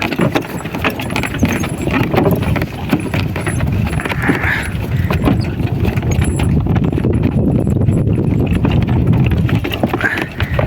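Draft horses in harness walk with steady clip-clopping hooves, a continuous uneven rhythm of many hoof falls, close by, with occasional jingling of tack.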